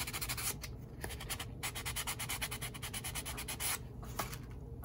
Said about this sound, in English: that could actually use a little filing to take down the worst of it. And then I'll smooth it out with sandpaper